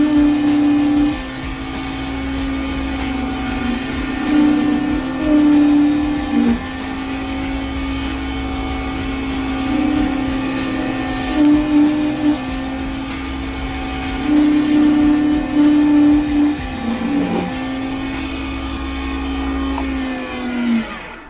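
A wood lathe turns a workpiece while a Boxmaster negative rake detail tool shapes it, giving a steady whirring hum with a constant tone and light scraping swells, without speech.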